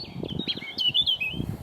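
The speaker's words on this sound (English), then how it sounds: "The robin song is sweet and high-pitched," A robin sings a short run of sweet, high-pitched warbling notes, clear and fairly close, over soft low rumbling background.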